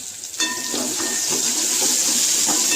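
Garlic and ginger sauté in a hot pan for a vegetable masala curry, giving a loud, steady sizzle with crackling spits and stirring throughout.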